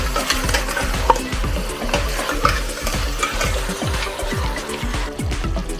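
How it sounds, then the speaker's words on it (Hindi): Minced meat (keema) fries with onions in a pan, giving an ongoing sizzle and repeated rhythmic scraping and knocking strokes as it is stirred, loud and close. "बस जी कीमे को अच्छी तरह भून लूंगी।"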